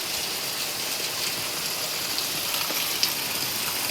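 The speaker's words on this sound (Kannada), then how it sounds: "ಭಾಳ ಮಳೆ ಆಗ್ತಾ ಇದೆ ನೋಡ್ರಿ" Heavy rain pours down steadily on a village, making a dense, even hiss with no breaks and no voices.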